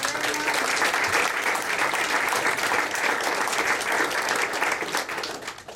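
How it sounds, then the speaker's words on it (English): A crowd at a scholarship fundraising event for Killingly High School students bursts into loud, sustained applause, dense clapping that carries evenly for several seconds before easing slightly at the end. "I think that deserves a round of applause."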